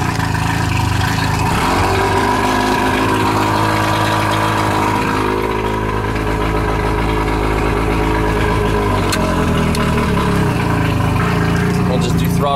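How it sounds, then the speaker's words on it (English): A vehicle engine revs up strongly after being put in reverse gear, a loud steady drone with rising and falling pitch that runs through the whole stretch, with someone talking over it. "You can hear it rev up pretty good."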